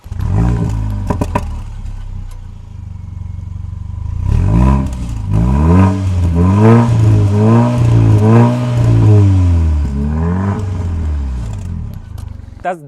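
A 2014 Mercedes CLA 45 AMG engine idles, then revs hard in several rising and falling bursts, its deep roar through quad exhaust tips close and loud before settling back.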